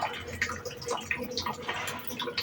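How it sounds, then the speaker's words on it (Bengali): Fried hilsa fish pieces dropped into a simmering pumpkin and potato broth give soft bubbling, dripping and splashing sounds in an uneven patter, close up and fairly quiet. "এরপর আমি ভেজে রাখা মাছগুলোকে দিয়ে দিচ্ছি।"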